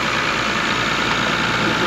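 A 1991 Toyota Supra Turbo MK3 with about 105,000 miles, which has a boost leak, idles in a steady, loud, even drone with no pauses.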